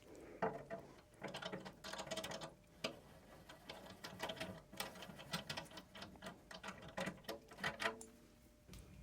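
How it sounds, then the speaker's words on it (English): A hand tap being turned through threaded inserts on radiator mounts, making a series of quick metallic clicks and ratcheting bursts in an irregular rhythm, close and fairly quiet, with no talking. "I'm also going to run the tap through these threaded inserts for the radiator mounts"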